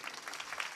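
A kirtan audience claps in a brief, quiet stretch of dense, even applause with no voice over it.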